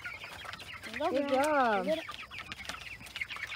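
Chickens cluck and squawk nearby, one loud drawn-out call standing out, while a person speaks briefly.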